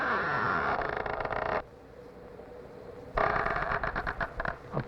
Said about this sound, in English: A balloon might give us squeaky sounds for doors or shoes.